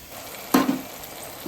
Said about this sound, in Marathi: आणि हे छानपैकी आता परतून घ्यायचं आहे आणि त्याला स्लो गॅसवरती म्हणजे मंद आचेवरती याला एक 10 मिनिटं तरी ठेवायचं आहे